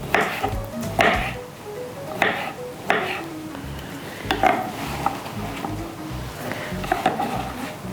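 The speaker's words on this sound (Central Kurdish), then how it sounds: "ئەوجا ئێستا دەستەکەم بە وردکردنی تەماتەکەم" A knife strikes a cutting board in irregular sharp chops as tomatoes are cut in a home kitchen, with some clatter of utensils between strokes.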